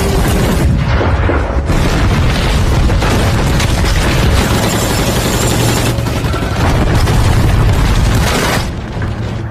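Tanks and artillery in a war film unleash a continuous barrage of heavy booming explosions. The blasts are loud, dense and overlapping and fill the whole stretch without a break.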